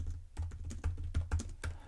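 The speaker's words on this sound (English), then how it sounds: "Then within the page, I can then simply start typing" Fingers tap out a quick, uneven run of clicks on a computer keyboard, close up, with no voices.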